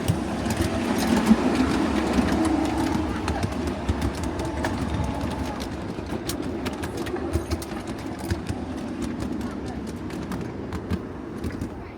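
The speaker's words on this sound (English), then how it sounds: "Yes, I'm driving a train." A miniature railway train rumbles steadily along with continuous mechanical clatter and a low drone, with faint chatter in the background.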